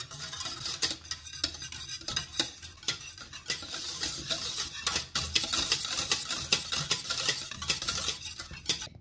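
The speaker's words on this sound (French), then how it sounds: "Et il ne faut jamais cesser de mélanger." A utensil stirs pastry cream in a pan continuously, scraping and clicking against the metal in quick irregular strokes, close and fairly quiet, with no voices.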